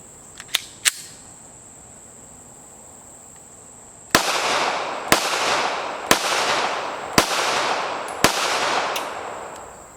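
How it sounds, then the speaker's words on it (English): Springfield Armory Echelon compact pistols fire outdoors. After a few faint clicks, six loud, sharp gunshots ring out about one second apart, each followed by a ringing decay. "we're going to shoot this side by side with one of the original Echelon compacts"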